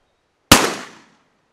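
A single shotgun blast from a 3.5-inch 2-shot Black Cloud duck load fired during a pattern test, loud and sharp, with a brief decaying echo before silence.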